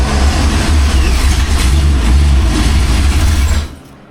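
A rebuilt Ford 289 V8 runs on a home-made stand with a manual choke carburettor, a loud, steady, close low rumble with a little unevenness, cutting off abruptly near the end.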